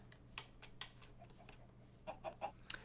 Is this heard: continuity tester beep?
no